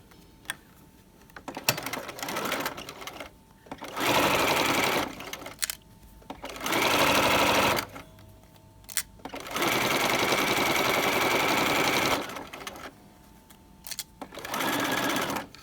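A sewing machine stitches the underlap side of a trouser waistband with a standard 2.5 stitch length at a 5/8 inch seam, running in four loud, steady bursts separated by short pauses.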